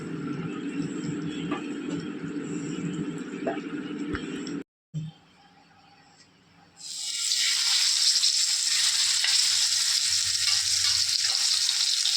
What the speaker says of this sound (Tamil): அடுத்து மீன் பொரிக்க போகிறேன்.